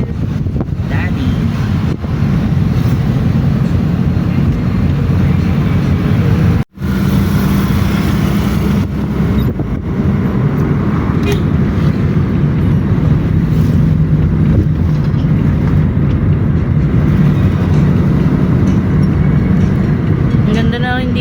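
Strong wind buffets the microphone on an outdoor nature trip loop in Cavite, a loud, constant roaring rumble for about twenty seconds with a brief dropout, while people talk faintly beneath it.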